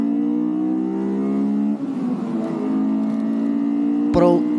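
A BMW X5M engine revs on the motorway, a loud steady drone with rising harmonic tones that dips briefly, then climbs again before a sharp burst near the end.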